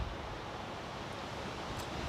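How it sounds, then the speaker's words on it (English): Wind blows across a lake, a steady, fairly quiet broadband rush with some microphone buffeting and no talk. "Even though the wind has eased a bit now, it's still a little bit windy."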